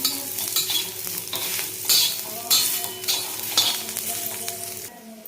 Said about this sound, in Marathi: तेलामुळे कांदा भाजला जातो चांगला लालसर कांदा भाजून घ्यायचा आहे